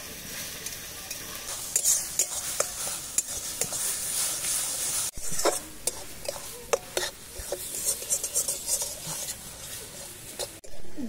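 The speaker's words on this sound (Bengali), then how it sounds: "দিয়ে দিচ্ছি ডিম। ডিমটা খুব ভালো করে ভেজে নেব।" Eggs fry in well-heated oil in a pan for a Bengali egg singara filling, a continuous close sizzle broken by repeated clicks and scrapes of stirring against the pan.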